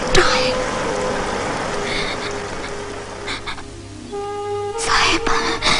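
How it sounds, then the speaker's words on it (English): Steady rain falls through a film scene, a constant hiss of drops that swells at the start and near the end, with a low hum and a few sustained tones layered beneath. "Yes, it's raining."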